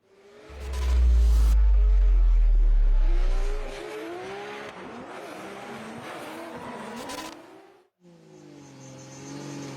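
Drift cars on the DMEC track in Riga, Latvia, a booming low rumble swelling then fading into screaming engine revs with tire squeal and wavering pitch, close and loud, briefly cutting out before resuming.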